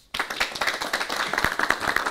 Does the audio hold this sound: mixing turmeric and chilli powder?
no